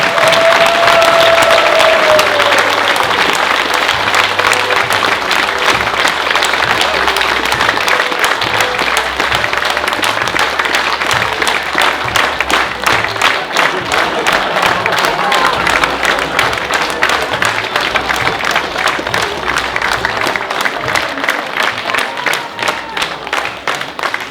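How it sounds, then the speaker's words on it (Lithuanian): Audience applause for a Latvian folk dance group at a folk dance festival: dense, loud, sustained clapping from a large crowd, continuing steadily throughout with a faint voice over it at the start. "Labai griausmingi plojimai turėtų skambėti mūsų broliukams Latvijos Respublikos Jėcavos kultūros centro liaudies šokių grupei Jėcavos"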